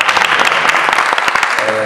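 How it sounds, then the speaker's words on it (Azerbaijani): Audience applause at a hotel event in Baku, a dense burst of many hands clapping close and loud throughout, with no pauses. "Və istəyirəm bir alqışlayaq onları, zəhmət olmasa alqışlayaq."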